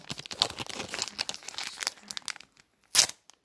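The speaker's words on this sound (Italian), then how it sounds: "Lo apriamo in maniera chirur chirurgica sto pacchetto." A Match Attax 2021/22 football card pack is crinkled and torn open by hand, with a run of rapid crinkling foil rustles followed by a brief pause and one sharp final tear, close up with no speech.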